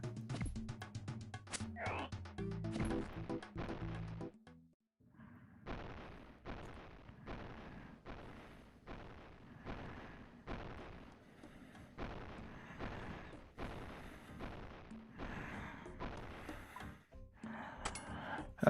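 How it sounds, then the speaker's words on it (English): Cannon fire in Old School RuneScape booms in a regular series of sharp blasts, each followed by a short decay, repeating through the scene at moderate level over faint game sounds. "Is somebody laying off a cannon over here?"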